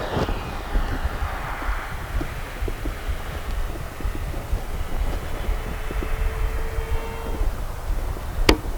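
Electric motors of an RC B-25J Mitchell scale model bomber at takeoff on a flightline runway, a steady distant whir and hum running throughout with a faint rising tone, one sharp click near the end, no voices.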